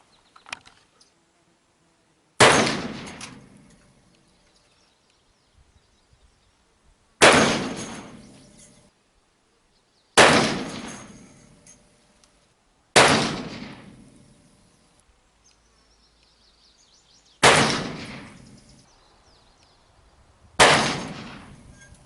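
An 1851 Navy Uberti revolver fires six loud, sharp shots, spaced several seconds apart, each ringing out into a decaying echo, with quiet pauses between shots.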